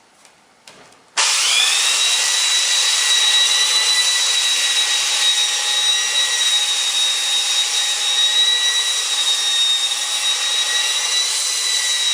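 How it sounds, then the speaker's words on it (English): A belt sander starts abruptly after a few faint clicks and runs continuously, loud and close, with a high steady whine while sanding a wooden scarf joint for a solid wing. "I'm just doing it with a belt sander here"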